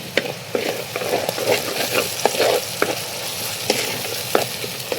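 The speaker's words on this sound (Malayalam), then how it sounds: "അപ്പൊ നമ്മുടെ അരപ്പ് നമ്മൾ ഒഴിച്ചു കൊടുക്കുന്നുണ്ടേ" Ground coconut paste poured into a curry frying in a pan, giving a close, steady sizzle and bubbling with scattered sharp clicks and scrapes.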